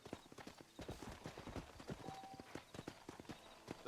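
Horse hooves clip-clop in the Red Dead Redemption video game while riding: a rapid, steady rhythmic gallop of hoofbeats, moderately near, with faint background ambience and a brief high tone partway through.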